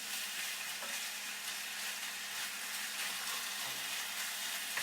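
A stir fry cooks fast over high heat in a pan: a constant, close sizzle with soft stirring scrapes and small crackles, fairly quiet and with no speech.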